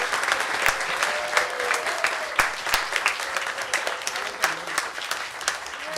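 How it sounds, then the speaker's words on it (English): A church congregation at Unity of Tustin applauds steadily for the full stretch, dense clapping from many hands with scattered louder claps, fairly close and sustained without pause. "So we will give them all a round of applause."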